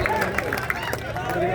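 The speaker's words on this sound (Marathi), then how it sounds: "टाळ्या करा, टाळ्या टाळ्या." Crowd at an outdoor wrestling match in Hinjewadi, Pune, clapping steadily in a dense, continuous patter with a few sharper claps, mixed with crowd babble.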